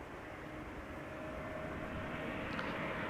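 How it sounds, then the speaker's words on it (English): A KLM Cityhopper airliner arriving at Amsterdam Schiphol Airport on a sunny day gives a steady, broad engine roar at moderate distance, holding fairly constant throughout with no voices. "Cityhopper arriving from Teesside or Darlington,"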